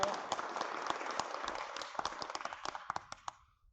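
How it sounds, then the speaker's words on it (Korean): Applause greets an independent candidate at a local social-welfare candidates' forum in Anseong: dense clapping from a seated audience that thins into a few scattered, sharper claps and then dies away into silence. "큰 박수 부탁드립니다"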